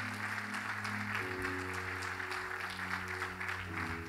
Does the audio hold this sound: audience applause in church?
yes